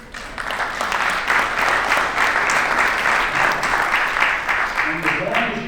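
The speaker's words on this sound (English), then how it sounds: "And as long as you are applauding, get ready to do it again" An audience at a 75th anniversary event for Iwo Jima claps in a sustained, loud, even round of applause, with faint voices rising near the end.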